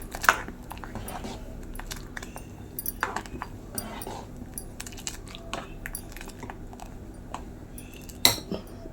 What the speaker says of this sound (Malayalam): നല്ലപോലെ ഒന്ന് മിക്സ് ചെയ്ത് കൊടുക്കാം